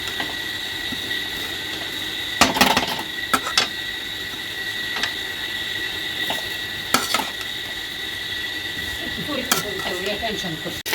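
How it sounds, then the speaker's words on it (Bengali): Dal fries in oil in a saucepan for bhuna khichuri, with a steady sizzle and hiss under several sharp metallic clinks and scrapes from stirring, close by and moderately loud. "তেল দিয়ে ডালগুলি ভেজে নিচ্ছি।"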